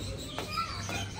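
Pigeons in cages give a soft, close cooing call amid other muffled bird sounds, with no talking over it.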